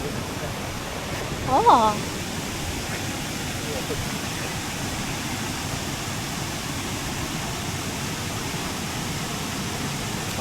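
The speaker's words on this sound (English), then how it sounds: "I love that sound of falling water." A waterfall at Minneopa State Park near Mankato, Minnesota, gives a steady broadband rush of falling water throughout, with a brief exclamation from a person near the start.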